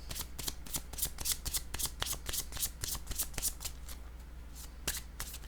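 Oracle cards being shuffled and drawn, a steady run of crisp riffling snaps and flicks close by with no talking.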